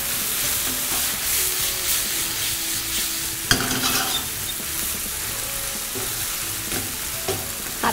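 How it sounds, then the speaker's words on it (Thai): Minced beef stir-fried in a pan with oil, mirin, sake and a little sugar for a miso rice bowl: a steady close sizzle with scraping spatula strokes throughout, a sharper clatter partway through, no voices. "ผัดให้เนื้อสุกค่ะ"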